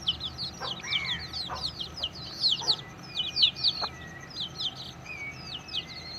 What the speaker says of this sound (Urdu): تو چینی نسل کی یہ مرغی ہے